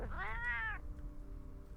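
A cat meows in the Arknights video game, one clear drawn-out meow lasting under a second at the start, followed by quiet background.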